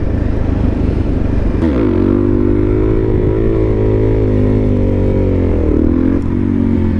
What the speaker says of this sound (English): I never thought I'd be doing a wheelie across the freeway